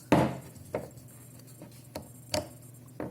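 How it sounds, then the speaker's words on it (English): Sharp plastic clacks from a Pattex silicone easy pulse gun being twisted into place: one strong snap at the start, then several lighter clicks spaced irregularly across a few seconds, close and isolated with no talking. "you turn this down, and then you twist until you hear the clack."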